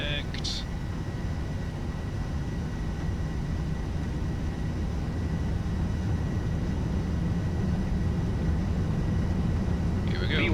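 Aircraft EI-GSG rolling down the runway at Southend for takeoff, its engines at set takeoff power, a loud, steady, unbroken roar that holds at a constant level throughout.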